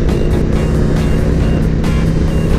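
A motorcycle engine drones loudly and steadily while a rider carries a dog on the tank, with a constant low rumble and wind rush throughout and no pauses.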